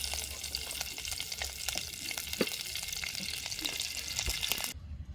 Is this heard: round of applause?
no